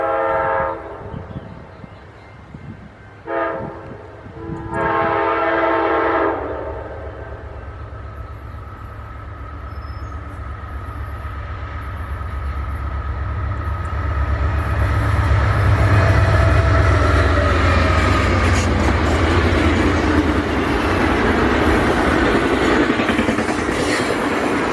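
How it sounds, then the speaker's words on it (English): Amtrak passenger train with a P42DC diesel locomotive hauling a Talgo Series 8 set on the Lakewood Subdivision near South Tacoma; sustained horn blasts early on, then a loud, steady rumble and rolling clatter as the train passes close by. "passes through less than a minute later, with P42DC 81 pulling the Mount Jefferson Talgo Series 8 train set"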